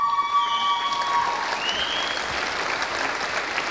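A ceremony audience gives dense, continuous applause that fills the whole moment at an even, loud level, with no voices standing out.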